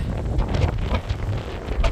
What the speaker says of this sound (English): Out on a ledge, it's pretty damn windy.